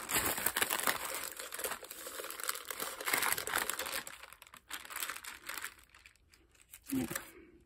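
Parchment paper crinkles and rustles as it is pressed by hand around a glass jar and its rim, a steady close crackling that continues for several seconds before fading out near the end.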